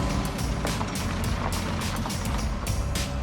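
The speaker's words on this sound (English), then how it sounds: "The engine now is running right." A classic Ford Cortina rally car engine runs steadily at a low rumbling idle, close and continuous with no talking.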